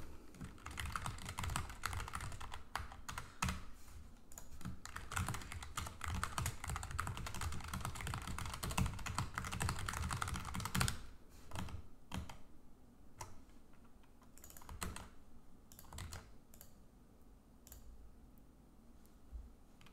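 Fast typing on a computer keyboard while writing a new blog post, steady close clicking of keys for about ten seconds, then slowing into sparser scattered keystrokes and clicks with quiet gaps.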